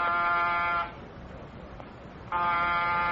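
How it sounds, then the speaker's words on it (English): A harsh apartment door buzzer sounds twice, a long steady buzz, a pause of near silence, then another buzz starting. "No answer to the door buzzer."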